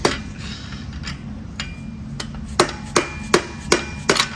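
Heavy dull thuds from a dead blow hammer, a few scattered blows then a run of regular strikes close by, each with a short solid knock.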